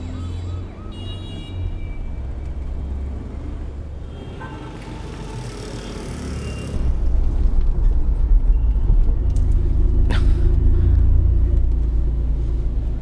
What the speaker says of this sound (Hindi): ट्रैफिक बहुत है, लगता है चेकिंग हो रही है।